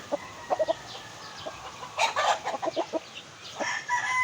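Fighting roosters kept by a gamecock breeder cluck and crow in short, moderately distant bursts, several birds calling intermittently against a quiet outdoor background.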